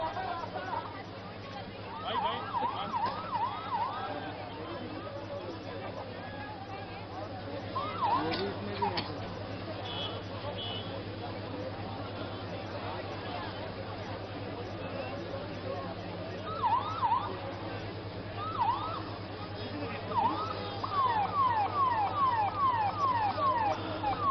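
A wailing siren rises and falls intermittently in the distance beneath steady crowd babble and talking.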